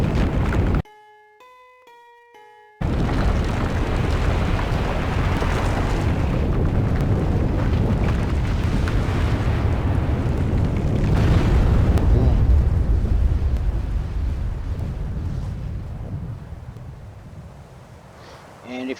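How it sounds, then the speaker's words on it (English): A volcano erupts in the survival game Volcanoids, opening with a brief set of chiming tones before a massive, roaring rumble that swells toward the middle and slowly fades over many seconds. "This is the volcano. This is the thing that governs everybody's day and schedule and actions, because thankfully it erupts like"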